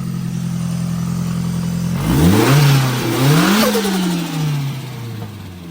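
A Nissan S13 with an SR20DET engine idles steadily, then revs up hard with rising and falling throttle blips before settling back toward idle, loud and close with no talk.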